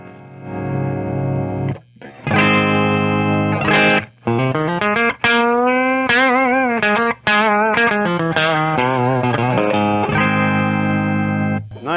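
Loud clean electric guitar chords and melodic lines played through a Fretgood preamp ring out with lush, shimmering modulation and reverb, sustained notes and bends filling the space with no talking.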